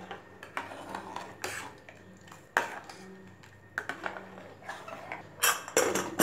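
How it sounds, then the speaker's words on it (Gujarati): A metal spoon stirs sambar spices in a pot, producing irregular clinks and scraping taps against the metal, close and moderately quiet with short gaps between strokes. "આ રીતે બધું જ એડ થઈ જાય એટલે બરાબર એકવાર હલાવી દઈશું."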